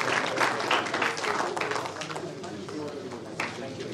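An audience at a panel discussion about petrol prices gives a round of applause, steady dense clapping that carries through the whole stretch and fades a little toward the end.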